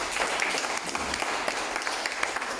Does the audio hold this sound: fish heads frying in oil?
no